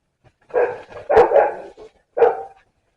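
Dogs bark in a few loud, close bursts, a couple of quick yaps and then a single bark after a short pause, heard in a home kitchen during salsa canning.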